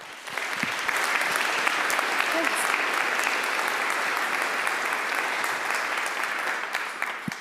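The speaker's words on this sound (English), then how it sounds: "please, a very warm applause for Hannah McHugh" An audience at a lecture event gives warm applause to welcome a speaker, clapping swelling in after a moment into a dense, even roar, then tapering slightly near the end, without talking over it.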